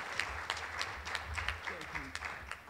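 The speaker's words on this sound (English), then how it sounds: "Give him a warm round of applause" An audience claps at a National Prevention Week event, a steady patter of many hands that is moderately loud and sustained throughout, with some voices murmuring under it.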